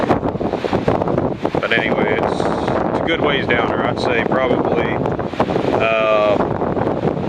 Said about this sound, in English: Hope y'all can hear me okay because the wind's blowing pretty bad.